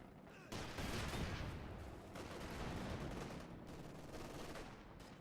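Dense, continuous gunfire and explosive bazooka shots roar through a World War II strategy video game battle, a steady loud barrage with bursts layered over one another and no pauses.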